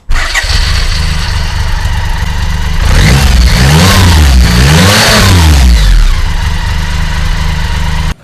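A BMW motorcycle engine cranks and fires up loud and close, then settles into idle before several rising and falling revs, with no talk over it.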